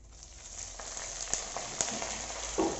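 Crushed garlic and chilli hit hot oil in a pan for a Kerala-style fish curry, giving a continuous close sizzle broken by a few small pops and spits.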